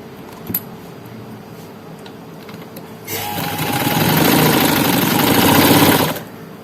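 An electric sewing machine stitches a folded collar piece for a looped neckline: a few quiet clicks, then a loud continuous whirring run of about three seconds that stops suddenly, with no voices.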